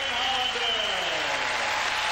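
A crowd applauds a figure skater's free skate at a 1997 exhibition, with sustained, dense clapping throughout and a commentator's voice talking over it.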